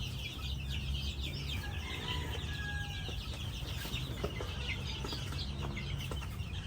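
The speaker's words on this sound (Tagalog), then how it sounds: "gaganda ng mga sisiw ni Tongtong, oh." Chicks cheeping in a farm setting as the birds are moved to a new place: thin high chirps and clucking fowl sounds over a constant low rumble, moderately close, no speech.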